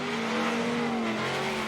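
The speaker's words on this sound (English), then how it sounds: "That Viper nose slams down to fire from that side exhaust." Formula DRIFT competition cars at Orlando, including a Viper-nosed car, slide through a corner with a loud sustained engine drone from the side exhaust and tire noise, steady and close throughout.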